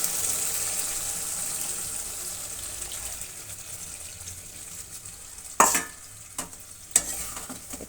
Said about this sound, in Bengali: তো এখানে একটু আমি আমল দুধ গুলিয়ে রেখেছি, এই দুধটা দিয়ে দেবো এখন ঝোলের হিসাবে